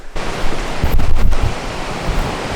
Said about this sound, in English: It's like just waterfalls everywhere along here.